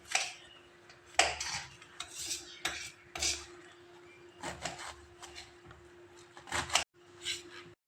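A knife cuts saag greens on a board in a home kitchen, a series of quiet, irregular chops and scrapes with short pauses between strokes and a faint steady hum underneath.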